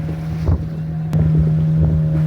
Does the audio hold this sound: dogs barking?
no